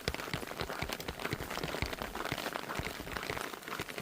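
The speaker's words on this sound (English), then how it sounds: "Hail and all. Thundering pretty good too." Hail and rain pelting down during a mountain thunderstorm in Colorado, a dense steady patter of tiny sharp impacts close around, with no thunder or voices standing out.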